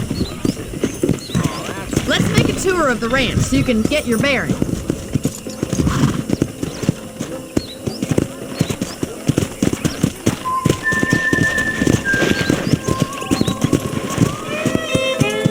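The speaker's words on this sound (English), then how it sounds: "I picked out a fine horse for you." Horse hooves clip-clopping steadily at a walking pace with an occasional neigh, ridden across a ranch in Red Dead Redemption, close and continuous under a man's and woman's conversation.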